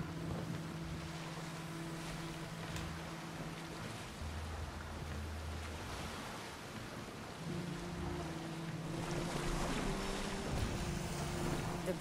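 A boat moves across open sea in Assassin's Creed Odyssey, with a continuous wash of water and wind under low tonal drones from the game's score.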